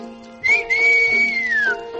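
A voice imitates a train whistle: a long, steady high whistled tone that rises at the start and slides down at the end, alone and fairly loud.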